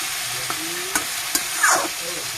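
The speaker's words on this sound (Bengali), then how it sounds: "আবার একটু ঘেটে দিচ্ছি" Mixed vegetables stirred in a frying pan under a steady loud sizzle, with a few sharp spatula scrapes and clicks against the pan, close by.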